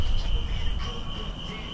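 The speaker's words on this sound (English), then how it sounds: "You can hear the crickets." Steady high-pitched cricket chirping holds throughout, with a low rumble of background noise underneath.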